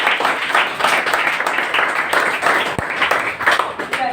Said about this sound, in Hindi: अपने आप के लिए तालियां बजा दीजिए।